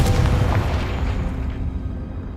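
Confringo explosive spell going off in the video game Hogwarts Legacy: a loud, close booming blast with deep rumble that decays gradually over a couple of seconds, with no talk.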